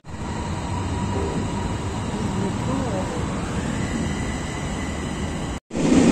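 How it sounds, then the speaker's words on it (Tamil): A Bangkok metro train rumbles steadily along the track, with a continuous rolling roar and a rising whine partway through, then a brief cutoff near the end before the noise resumes. "இந்த மெட்ரோவில் தான் நம்ம வந்துருக்கோம்."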